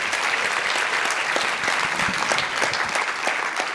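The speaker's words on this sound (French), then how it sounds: "On peut l'applaudir" An audience claps steadily at a thesis prize award ceremony. The applause is dense and sustained at a fairly close range, with no speech over it.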